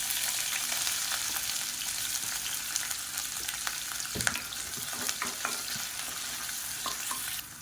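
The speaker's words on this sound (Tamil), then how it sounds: "இப்போ எண்ணெய் நல்லா சூடானதும் 1 கை அளவுக்கு நீளமாக நறுக்குன வெங்காயம் சேர்த்துக்கலாம்." Long-sliced onions, a handful dropped into well-heated oil in a pan for a quick South Indian lunch, sizzling and crackling steadily and close up with occasional stirring scrapes, no talking.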